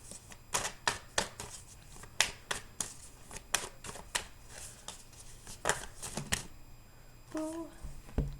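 Tarot cards riffle and slap in a run of sharp, crisp shuffling bursts, close and fairly quiet, before a card is pulled from the deck, with a soft voice murmuring near the end.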